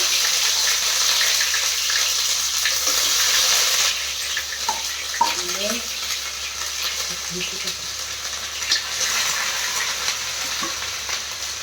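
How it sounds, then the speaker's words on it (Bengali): Cumin seeds and ginger-garlic paste sizzle in hot oil in a kadai for a Bengali recipe: a steady, close frying hiss, strongest at first, with a few soft stirring clinks scattered through. "কড়াইতে তেল দিয়ে দিলাম। এখন একটু জিরে দিয়ে দিলাম। জিরে দিয়ে এই যে আদা রসুনের পেস্টটা একটু"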